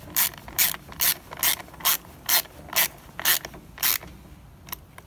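A hand ratchet tightens a carburetor bolt on a Craftsman leaf blower, giving about ten crisp clicking bursts in a steady rhythm, close and clear with no talking.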